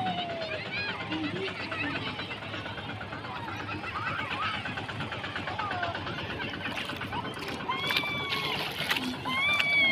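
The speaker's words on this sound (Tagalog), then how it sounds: "May bangka, o." Steady engine drone and water rushing past a boat hull near a beach resort in Mabini, Davao de Oro, with voices talking over the noise throughout.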